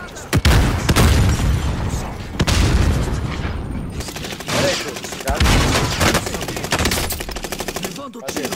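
Rapid gunfire in an online shooter video game: bursts of automatic shots and sharp booming blasts come in clusters, loud and close, with short gaps between volleys.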